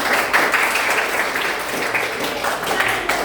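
Classroom of students applauding together, a continuous dense clatter of many hands at moderate loudness, held steady with little variation and no clear talk over it.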